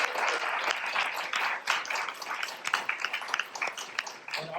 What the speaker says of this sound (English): let's have an applause for all of our readers